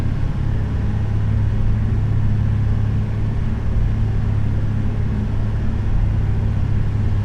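Steady, loud engine rumble of a car driven fast along a country road on a farm outing, a continuous low drone with road noise and no breaks.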